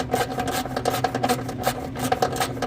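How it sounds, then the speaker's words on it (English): A ratchet wrench works a bolt off a blower motor on a Ford Econoline E250 van, giving a quick, rhythmic series of close clicking and rasping strokes throughout. "and I can ratchet it off"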